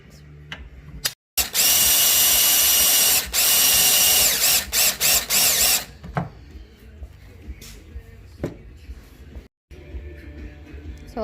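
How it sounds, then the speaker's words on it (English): Power drill boring holes into a Ford Mustang's floor for racing-harness eye bolts: a loud, sustained whine for about four seconds, then several short stuttering bursts, with quieter handling and rustling before and after. "So we're going to drill holes in here and put some eye bolts and anchor them down."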